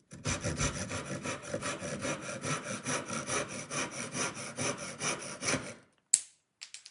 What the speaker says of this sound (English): Let's quickly cross cut these.